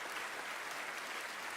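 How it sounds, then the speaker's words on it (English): An award-show audience applauds, steady continuous clapping from a crowd, moderately loud and heard alone without speech. "Let's give Andy a round of applause."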